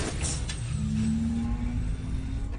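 Car driving along at speed with a steady engine drone and road rumble, a rising tone as it pulls along, close and continuous without talk.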